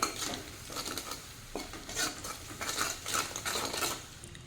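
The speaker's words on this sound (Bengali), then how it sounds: "মশলাটাকে একটু ভেজে নেবো মিনিটখানেক" Spices with a pinch of turmeric frying on a low flame for a spicy prawn curry, soft sizzling under repeated light scrapes and clinks of a spoon against the pan, quiet and close.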